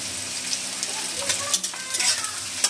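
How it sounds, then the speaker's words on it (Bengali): Onions crackle and sizzle in a pan as they fry toward brown, with brief stirring scrapes over a continuous close hiss, no one speaking. "পেঁয়াজটা ভালো করে ভেজে নিতে হবে লাল লাল করে"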